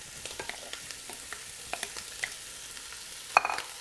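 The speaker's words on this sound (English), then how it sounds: "now that that's singing, we are gonna add our veggies." Vegetables go into hot fat for chicken gumbo, a soft, steady fry with light crackles and a few stirring clinks, a brief louder clatter near the end, no speech.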